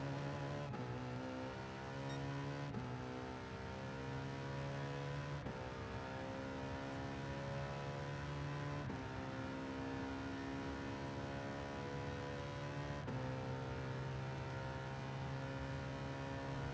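A race car's engine drones steadily in Gran Turismo Sport at Circuit de la Sarthe, accelerating through several gear changes that make the pitch drop and climb again. The sound is continuous and smooth, with no talking over it.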